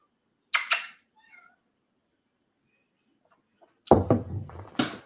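A house cat meows twice, loud and close, first a short cry and then after a quiet gap a longer, rougher yowl trailing off into another brief meow.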